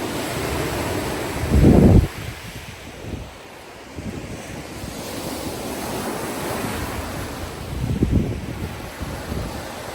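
Ocean waves wash ashore on the Nova Scotia coast in a steady roar, with louder surges breaking near the start and again later, and wind buffeting the microphone throughout.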